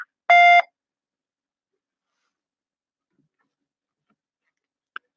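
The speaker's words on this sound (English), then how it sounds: "Please leave a message after the tone." A single loud voicemail tone sounds early and is cut off cleanly, followed by near silence and a faint click at the end.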